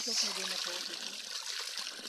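Spring water on a farm trickles and streams steadily close by, a soft continuous flow, while someone speaks over it at the start.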